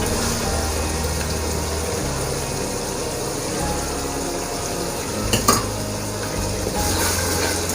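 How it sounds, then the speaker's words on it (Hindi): Tomatoes and onions cook with yogurt in a pan for chicken kachnar, giving a steady, dense sizzle and bubbling hiss. A few brief stirring clinks come near the end, and no one speaks. "टमाटर प्याज़ों को जी इस दही के साथ ज़रा पकाते हैं"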